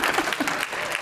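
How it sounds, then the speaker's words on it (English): Brief audience applause at a talk on social capital and health equity, a short burst of clapping from the crowd with a voice faintly mixed in. "you can clap for that, we'll take a clap,"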